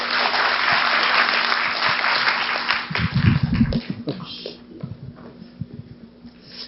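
Applause from a Korean academic conference audience welcomes a comparative religion professor to the podium, a loud, steady wash of clapping that swells briefly mid-way, then thins and tapers toward the end.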